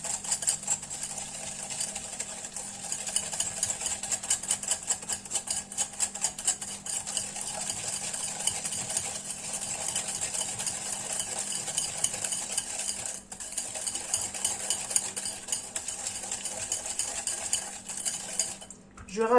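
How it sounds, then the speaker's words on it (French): Egg yolks being whisked with vanilla and a pinch of salt in a bowl for a lemon meringue tart, a steady fast rhythmic scraping of whisk against the bowl that runs without pause for nearly twenty seconds. "Et je vais blanchir les jaunes d'œufs."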